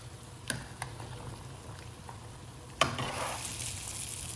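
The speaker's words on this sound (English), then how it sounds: "I'm just frying up my little shallots to have as crispy onions on top" Shallots fry in a pan with a soft, steady sizzle, broken by a few sharp clicks and a louder crackle partway through.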